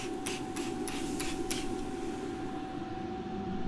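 A few quick hissing spray bursts of liquid onto a chuck roast in a smoker in the first second and a half, then a steady mechanical hum with a faint tone continues alone.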